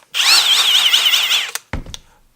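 A Kobalt brushless cordless hammer drill in drill mode whirs loudly for about a second and a half with a slightly wavering pitch, then stops, followed by a couple of brief clicks and knocks.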